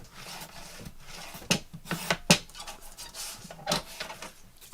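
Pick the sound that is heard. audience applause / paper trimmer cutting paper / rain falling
paper trimmer cutting paper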